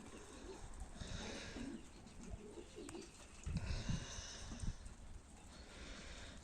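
Low, soft coos from young pigeons on their first outing rise and fall over a steady outdoor hiss, with a few louder murmuring bursts near the middle.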